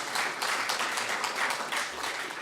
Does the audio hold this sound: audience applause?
yes